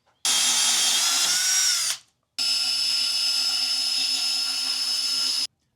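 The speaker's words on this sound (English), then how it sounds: "I like hole saws because you put the bit exactly where you need it" A power drill with a hole saw bores a hole in a boat's dash piece: a loud, high whining run of about two seconds, a short pause, then a second steady three-second cut, close and alone.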